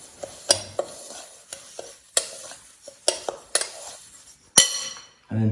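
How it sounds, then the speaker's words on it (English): Dry ingredients with asparagus being stirred in a pan, a series of sharp scraping clinks of a utensil against metal at an irregular rhythm, close and clear, with a louder scrape near the end. "I'm just going to give that a stir up."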